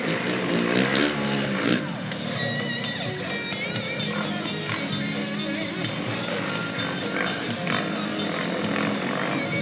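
Truck engine revving at Truckfest Scotland, a loud, close, continuous roar with rattling mechanical texture that holds strong for nearly ten seconds.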